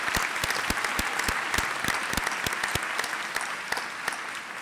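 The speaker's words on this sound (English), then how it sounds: "Please join me in a round of applause." Applause at a high school commencement ceremony, many hands clapping steadily with a few sharp, distinct claps standing out, moderately distant in a large venue.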